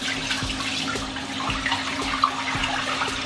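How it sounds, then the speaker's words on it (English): Steady running water from a tap while skincare product is rinsed off the face at a bathroom sink, a continuous close hiss with faint splashes and no talking. "So we rinse this off."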